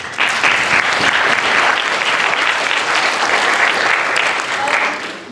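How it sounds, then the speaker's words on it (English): At an evening event on peace in Israel and Palestine, an audience gives loud, sustained applause for Lior, a dense crowd of clapping hands lasting several seconds. "So a round of applause for Lior, please."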